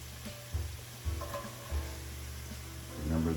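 Chopped white onions tossed into a pan of cooking garlic sizzle steadily, with bursts of stirring and scraping over a constant frying hiss.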